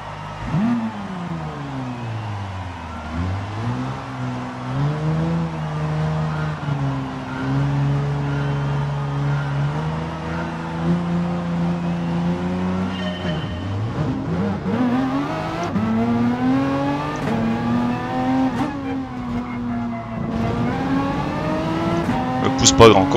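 Race cars in Gran Turismo Sport idle and rev at a standing start on the Nordschleife, engine tones rising and falling repeatedly before climbing through gears, with a loud, steady engine drone throughout and a voice talking over it.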